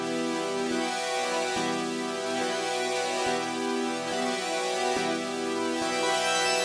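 Sustained synth pad chords from a beat, dense and bright, with soft low thumps recurring at a steady pulse underneath, loud and continuous without any voice.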